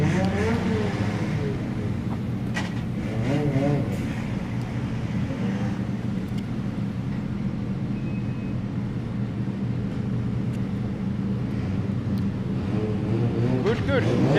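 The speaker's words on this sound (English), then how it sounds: "That was some nice tandem driving, I must say." Drift cars run in tandem on a track at a practice session in Germany, their engines droning loudly and continuously at a distance while a commentator talks over them.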